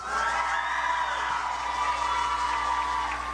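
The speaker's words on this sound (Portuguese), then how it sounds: "também uma salva de palmas para eles" A Brazilian program audience cheers and whoops loudly, crowd noise and scattered applause filling the space in a dense, sustained roar with no break.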